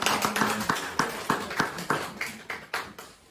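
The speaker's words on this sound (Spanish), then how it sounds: "Un aplauso para el Señor." A church congregation claps together in a steady rhythmic beat, loud and close, filling the space with repeated sharp hand claps and no speech over them.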